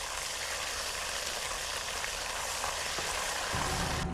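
Ginger, green chili and garlic paste fry in a pan with soy chaap, giving a dense, steady sizzle that fills the whole stretch without pause.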